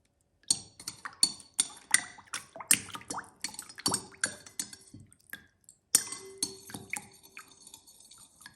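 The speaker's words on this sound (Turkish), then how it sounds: "Bir tatlı kaşığı kadar karbonatı suyun içerisine koyup karıştırıyorum." A spoon clinks repeatedly against a bowl as a dessert spoonful of baking soda is stirred into water, with a quick irregular series of bright taps and faint sloshing, close and fairly quiet, with a brief pause midway.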